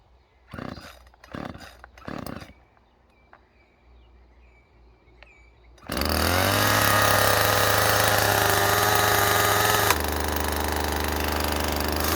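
A Husqvarna 137 chainsaw, started cold: a few knocks and pulls, then the small engine catches and holds a loud, steady idle at close range, dropping slightly near the end.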